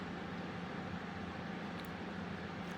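Steady low hum and broadband whoosh of an air conditioner running continuously in the background, unchanging and fairly quiet.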